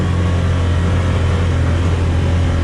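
A Can-Am Defender XMR side-by-side drives a hard-packed trail in high gear with a new clutch, its engine a loud, steady low drone throughout, with no talk.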